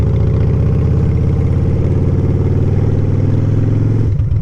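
A motorcycle engine runs loud and close for about four seconds, a steady throbbing drone that barely changes pitch before it eases slightly near the end, ridden out on a warm seventy-degree January day.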